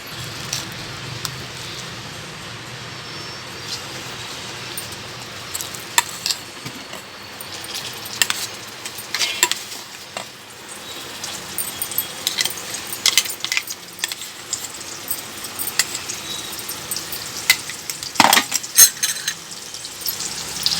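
Masala frying in hot oil gives a soft, low sizzle, broken by intermittent scraping and clinking of a spoon stirring in the pan, close by and fairly quiet.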